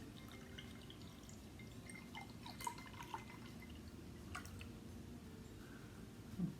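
Dark Sky Imperial Stout, a near-black beer, is poured into a glass, making a faint, soft liquid gurgle with a few small drips and clinks, close by and without talking.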